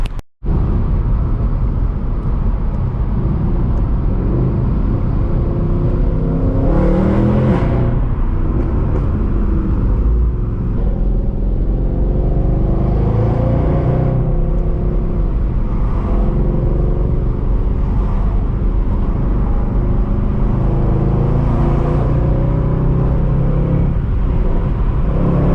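A Mercedes C63 AMG with its 6.2-litre V8 accelerates hard and revs through quick gear shifts, a loud, continuous engine roar heard from inside the car with no talking.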